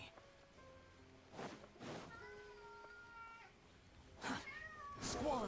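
A pet cat meows several times, the short cries scattered across the stretch and varying in pitch, over quiet indoor background with a few soft rustles.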